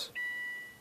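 A new car radio head unit installed in a 2003 Subaru WRX gives a single clean electronic key beep, a sustained bright tone after a brief click, close and clear with nothing else audible.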